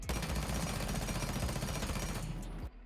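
Sustained automatic gunfire from a video-game rifle fitted with a muzzle brake in Rainbow Six Siege, a loud rapid burst of close shots that runs almost three seconds before cutting off, with no talking.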